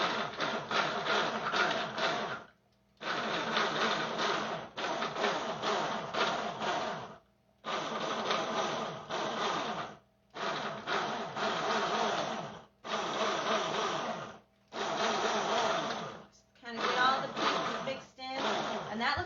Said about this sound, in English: I can tilt it while I'm processing because it's just the little hand blender